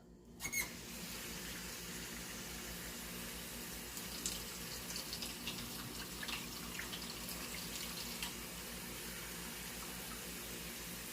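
Water running steadily from a kitchen tap, a close, continuous gush lasting several seconds with light clinks of a pan in between and no talking.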